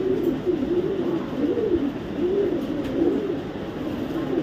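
A racing pigeon from the BRPFC 2023 club coos in a steady, rolling rhythm, close and fairly loud, with soft background noise and no speech.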